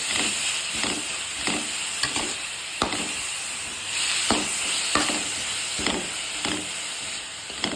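Salt and masala stirred into a carrot rice mixture in a pan, a steady frying sizzle broken by repeated spoon scrapes and taps at an irregular rhythm, close and fairly loud with no talk.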